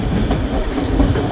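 White Pass scenic railway train running along its tracks in Alaska, a steady loud rumble with rhythmic wheel clatter and rattling carriages heard from onboard.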